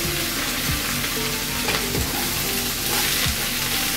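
Drumstick leaves tossed with turmeric in a hot frying pan give a steady loud sizzle, with scraping stirs at a few moments and no talk.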